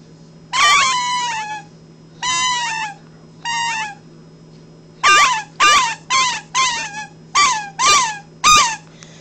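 A handheld squirrel call imitating a baby squirrel in distress, played quietly indoors: a series of short, high, squealing chirps in bursts, three spaced calls followed by a faster run of about seven, over a low steady hum.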